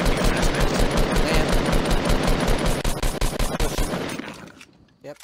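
Rapid bursts of gunfire from a Fortnite duos match, firing in a steady repeating rhythm that dominates the sound before fading out near the end.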